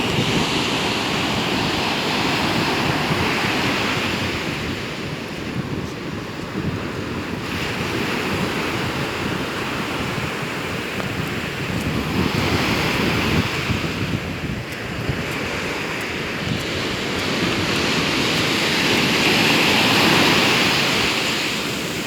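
Sea waves break at RK Beach in Visakhapatnam, loud rolling surf that swells and recedes in slow surges over twenty seconds, mixed with strong wind noise on the microphone and no voices.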